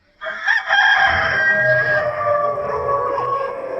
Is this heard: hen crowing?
yes